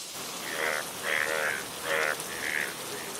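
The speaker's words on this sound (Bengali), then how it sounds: "এই বৃষ্টি যে কমবার নয়, এদিকে ঘর বেয়েও যে জল পড়ছে" Heavy cartoon rain falls as a steady hiss under quiet, muffled bursts of dialogue; the downpour continues throughout with no break.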